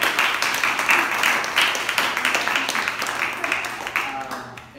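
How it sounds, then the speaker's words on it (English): An audience at an entrepreneurship panel gives a moderate round of applause, with voices mixed in beneath the clapping, which tapers off toward the end. "how about a round of applause?"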